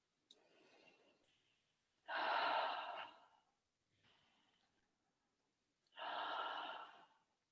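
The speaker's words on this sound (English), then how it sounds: "breathing in through your nose and out through your mouth in our circular pattern" Circular breathwork, inhaling through the nose and exhaling through the mouth: a soft, quiet nasal inhale followed by a loud, long breathy exhale, repeated twice at close range with pauses between breaths.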